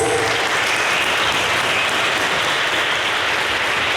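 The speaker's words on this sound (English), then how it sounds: "Let's give them a round of applause." An audience at a teach-in on U.S. policy and Gaza gives a loud, sustained round of applause, dense and even throughout with no pauses, close and filling the room.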